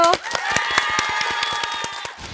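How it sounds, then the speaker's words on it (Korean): Audience at a Korean motivational lecture claps steadily, a dense run of sharp hand claps close by with music rising beneath, tapering off near the end. "박수 주시죠"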